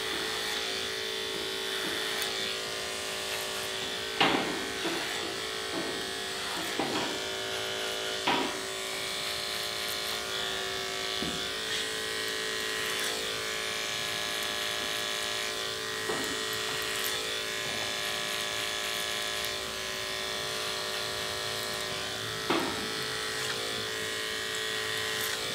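Electric hair clippers fitted with a 000 blade buzz steadily and close during a barbershop skin fade, a continuous drone broken by a few brief clicks and touches against the head, with no talking.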